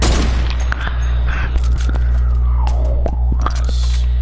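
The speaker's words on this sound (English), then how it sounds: "I just shot a llama." Gunfire rings out in a video game as a run of sharp, close shots and booms scattered across a few seconds, with a low hum underneath and faint voice sounds.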